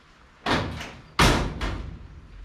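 Door on an early Ford Bronco body, separated from its frame, opening and shutting: two sharp metallic thuds, the second louder, each with a short rattle, close and with no talk.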